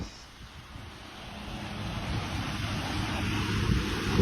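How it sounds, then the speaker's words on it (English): Ocean waves wash in a steady, building broadband roar mixed with wind buffeting the microphone, with no clear voices. "Look at it, mate. It's the ocean."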